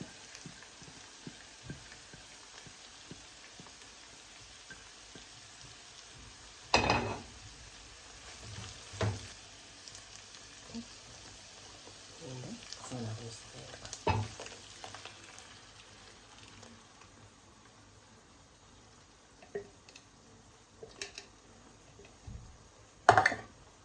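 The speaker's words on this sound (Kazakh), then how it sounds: "Міне қуырылып жатыр бізде." Minced meat fries in a pan with tomato paste and crushed tomatoes added, a low steady sizzle broken by several louder stirring scrapes and clatters; no one speaks.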